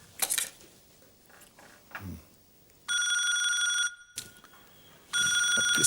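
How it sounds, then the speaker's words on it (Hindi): A telephone rings in a home, two bursts of a loud electronic trill with a pause between, following some quiet household clatter. "अब किसका फोन आ गया?"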